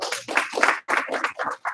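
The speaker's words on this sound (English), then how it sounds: "Give her 1 clap. 2 claps." A small classroom audience gives a student a burst of quick, close, fairly loud claps that comes in uneven clusters with brief gaps between them.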